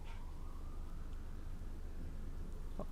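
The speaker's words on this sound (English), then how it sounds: "Oh, Husky, you can hear the ambulance." Ambulance siren heard from a 43rd-floor flat high above the street, a faint distant wail rising slowly under a constant low hum throughout.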